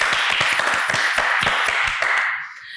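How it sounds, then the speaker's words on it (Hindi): An audience applauds at a talk show after an award announcement. Many hands clap steadily at close range for about two seconds, then the clapping fades out quickly. "तालियां होनी चाहिए।"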